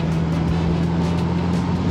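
A 1975 Honda Goldwing GL1000 motorcycle engine runs at a steady, even drone with a low hum, close and continuous throughout, with no talk over it.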